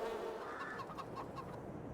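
Chickens cluck and murmur steadily in a Farming Simulator 22 farmyard, several birds close by in a continuous, busy chatter with short rising calls, no talking.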